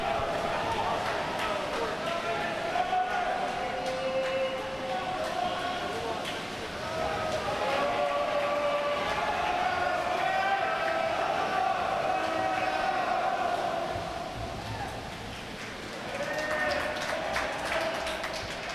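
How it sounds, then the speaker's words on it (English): Crowd noise from spectators at a varsity high school swimming meet, a steady wash of cheering and shouting that swells and dips, with voices mixed throughout. "Let's listen to the crowd."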